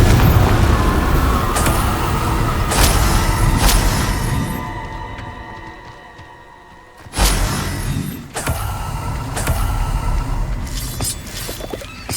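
Confringo fire spell explosions in the Hogwarts Legacy video game: a series of loud booming blasts at irregular intervals, dipping into a brief quiet stretch before more thumping detonations follow.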